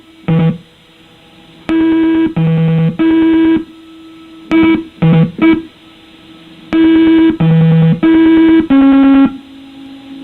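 A Simon electronic memory game sounding its distinct tones, loud clean beeps in short sequences and pauses, each note a steady buzzy pitch, played alone with no talking.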